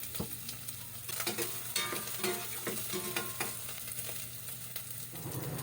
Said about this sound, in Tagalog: Igisa ang sibuyas,